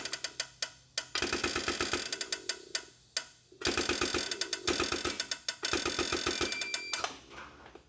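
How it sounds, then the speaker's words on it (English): A hydraulic pump on a hose crimper cycles on and off in a workshop while a hydraulic hose is being crimped, giving bursts of dense mechanical clattering with short pauses between them. "That's why you hear the pump on and off, on and off."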